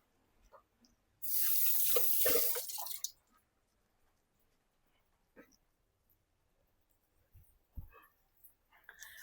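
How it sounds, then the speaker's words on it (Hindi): Hands washed under a running kitchen tap: one loud burst of close, splashing water lasting about two seconds, then near silence with a few faint clicks and knocks. "मैं दोबारा हाथ धो के आती हूँ"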